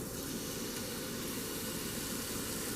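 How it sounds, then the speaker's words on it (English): Floured beef sizzles and browns in a soup pot, a steady, dense hiss that holds evenly throughout with no talking over it. "Okay, it's a little sizzle."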